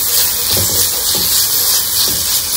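Onions fry in a pan for a samosa and spring roll filling, a loud, continuous close sizzle and hiss with faint stirring.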